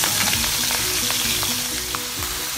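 Dried croaker fish, soaked in water beforehand, frying in hot oil in a pan, with a steady loud sizzle and crackle throughout, close up and without talk.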